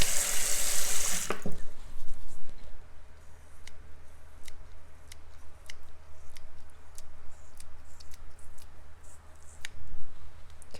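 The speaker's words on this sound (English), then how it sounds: "As I rinse that off and add a little bit more water underneath the area" Tap water runs briefly and loudly at the start, then stops, leaving quiet splashes and sharp clicks as a face is rinsed at a sink.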